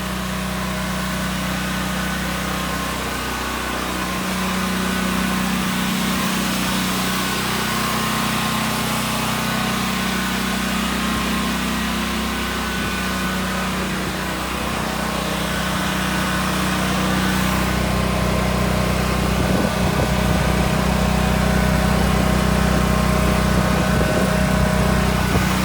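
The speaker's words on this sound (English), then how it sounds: "So generator's on." A Predator 8750 generator runs steadily inside a generator shed, a loud continuous engine drone with a low hum and no pauses, swelling slightly toward the end.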